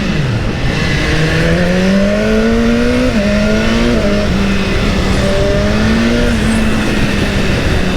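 A BMW S1000R motorcycle climbs the road to Col du Pourtalet on a 30-degree day. The engine drones loud and steady, its pitch rising and falling through gear changes, with no talk.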